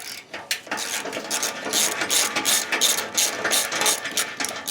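A hand ratchet clicks rapidly and continuously, close up, loosening the exhaust clamp between exhaust pipe and lead pipe on a Harley-Davidson Road King Special, in a steady metallic rattling rhythm with a few brief pauses.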